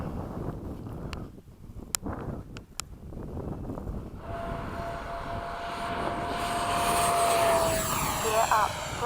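A Freewing 80mm F-5 radio-controlled jet takes off at Oakdale, its ducted-fan whine rising steadily from a low rumble into a loud, sustained rush under wind noise, with someone talking over the start.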